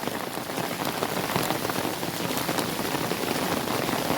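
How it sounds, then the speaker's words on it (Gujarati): Heavy rain pours down in a village, a loud, dense and steady patter of drops on surfaces that continues without a break. "આજે આખો દી વરસાદ જ રહ્યો"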